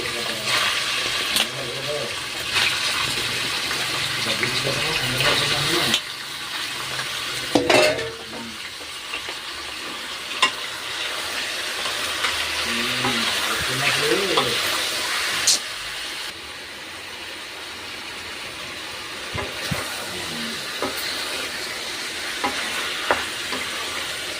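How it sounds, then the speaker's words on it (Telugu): Chicken pieces frying in hot oil for a chicken fry biryani, a steady close sizzle with scraping stirring and occasional clinks of a utensil against the pan, under intermittent talk. "ఆయిల్ బాగా హీట్ అయిన తర్వాత ముందుగా క్లీన్ చేసి పెట్టుకున్న చికెన్ వేసేసి ఫ్రై చేసుకుందాము"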